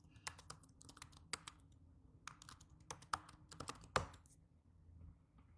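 Soft, close keystrokes on a computer keyboard as a password is entered during setup of an F5 BIG-IP lab appliance; irregular bursts of clicks, fairly quiet, with no talk.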